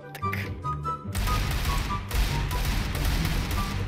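Rapid bursts of Minecraft gunfire crackle loudly and continuously, dense and overlapping, with a brief lull near the start.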